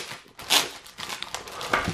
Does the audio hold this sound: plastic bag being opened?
yes